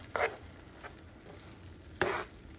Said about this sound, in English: Stir that in there really good.